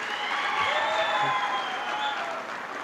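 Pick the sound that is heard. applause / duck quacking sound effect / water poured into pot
applause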